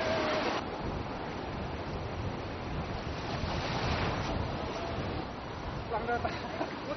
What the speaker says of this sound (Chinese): 风浪越来越大